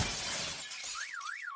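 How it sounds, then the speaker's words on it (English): A heavy crash with shattering, breaking noise as a tree branch falls onto a parked truck, then thins out as a warbling, alarm-like tone rises and falls. "that is the sound of that branch coming down on your truck parked in the driveway"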